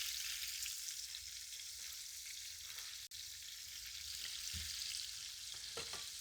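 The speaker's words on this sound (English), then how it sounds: "I'm going to add my onions into that hot grease." Onions frying in hot grease in a pot while a chuck roast broth is prepared, giving a steady, fairly quiet sizzle with a few small stirring knocks near the end.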